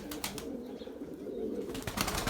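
Domestic flying pigeons coo in a soft, low, continuous murmur near a pergola, a steady close warble with no talk over it.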